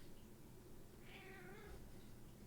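A cat meows once for attention, a drawn-out, wavering call in the middle, close but quiet over a steady room hum.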